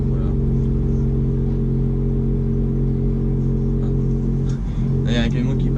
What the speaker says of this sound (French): Il y a un camion qui passe là